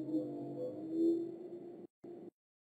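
A low, drawn-out moaning call that holds and wavers, then breaks off and returns briefly before stopping; fairly loud and alone.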